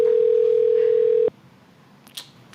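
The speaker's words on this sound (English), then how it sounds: "It's ringing." A telephone call's ringback tone sounds as one steady, loud, unbroken tone for about a second, then cuts off abruptly into near silence.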